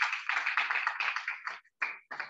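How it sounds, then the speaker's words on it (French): An audience at a talk on mental programming for success applauds, with dense close clapping that thins out and breaks into a few scattered final claps. "Est-ce qu'on peut encore applaudir une fois de plus pour le Constantine"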